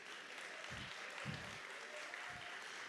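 Audience applause for a bartender at an awards night event, a steady broadband patter of clapping across the whole stretch, moderately loud and continuous, with a few low thumps underneath.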